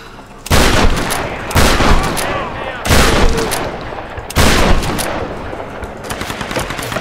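Shotgun blasts in the Tomb Raider video game: four loud, heavy booms roughly a second or more apart, each trailing into a reverberant decay, with lighter clatter after the last.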